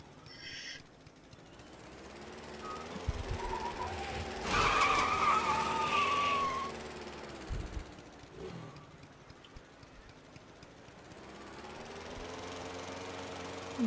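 A go-kart driven in Planet Coaster spins out, its engine droning steadily while tires screech and whine in a loud skid partway through before the motor settles back to a constant hum.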